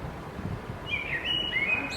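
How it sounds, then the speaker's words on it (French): Birds singing outdoors, a few thin, faint chirps and whistled phrases over a soft, rustling background. "Même les oiseaux ils sont d'accord."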